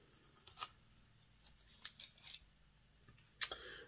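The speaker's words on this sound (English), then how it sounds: "So let's take this tape off." Adhesive tape peeled off a Hornby BR Schools Class model locomotive: a few faint, sharp crackling rips in short bursts, close and quiet, with gaps between them.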